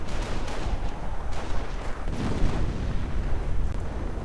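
Heavy artillery rumbles through a World War II strategy game battle, with dense booms and explosions layered into a continuous, loud roar with no voices.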